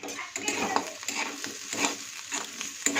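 Potatoes, peanuts and bitter gourd sizzle and crackle steadily in a pan on a low gas flame, with a spoon scraping and stirring through the fry, close and fairly quiet.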